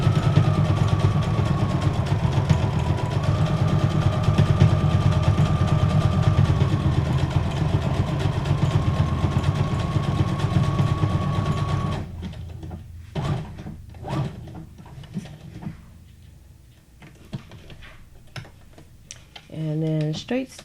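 A sewing machine runs a long straight stitch on a junk journal pocket, whirring steadily and close for about twelve seconds before stopping, followed by light handling noises and a voice.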